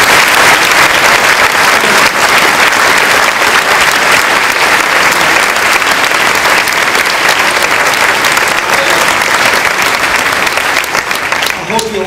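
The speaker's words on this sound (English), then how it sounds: "ask you to give a round of applause for all the people that work so hard to make CGI." Loud, sustained applause from a large Clinton Global Initiative 2011 audience, dense clapping that holds steady for about twelve seconds before beginning to thin at the very end.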